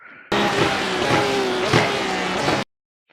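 A GT3 race car engine on the Daytona circuit in iRacing roars loud and close, holding a steady high-revving note that cuts off abruptly after a couple of seconds.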